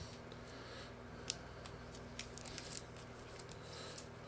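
Cardboard packs of Marvel Zombies ID cards being torn and unwrapped at close range, with faint crinkles and a few sharp snips and rips over quiet background hum.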